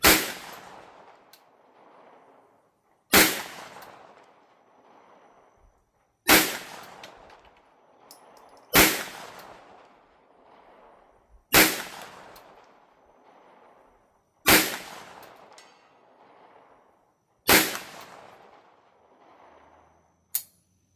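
A Bear Creek Arsenal BC-9 bufferless AR9 9mm pistol fires seven sharp, loud shots outdoors, evenly spaced about three seconds apart, each cracking sharply and then ringing briefly into quiet.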